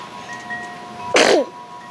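A single sharp, close sneeze bursts out after a quiet moment, with a faint steady hum in the background.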